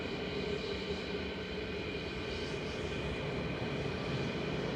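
An airliner climbs away after takeoff at Manchester Airport, a faint, steady, distant engine roar that holds evenly throughout with no talking.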